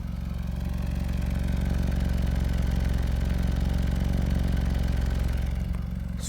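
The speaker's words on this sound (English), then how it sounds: "Small exhaust note there for you." A 2017 Nissan Rogue SV with a CVT idles on its small exhaust, a steady low throbbing drone with faint clatter that stays even throughout, close by with no voices.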